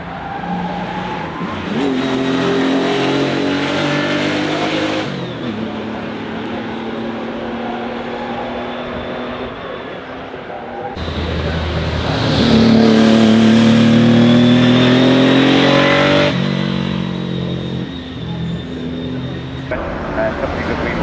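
A Porsche 964 restomod, the Kalmar 7 97, revs hard at the Goodwood Festival of Speed, its engine note rising and falling through two loud passes, with the second louder and closer.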